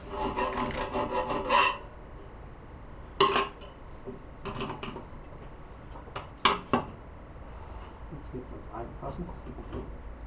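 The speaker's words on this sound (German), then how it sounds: "Zur Nacharbeit nimmt man noch eine Feile." Metal file rasping against an iron workpiece in a workshop, a dense burst of strokes followed by scattered shorter scrapes, close and moderately loud.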